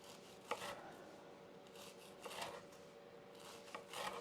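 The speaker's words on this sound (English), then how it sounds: "So I prefer to cut on the diagonal." A knife saws through a baked biscotti loaf on the diagonal, giving close, dry rasping strokes that come in short bursts about every second and a half.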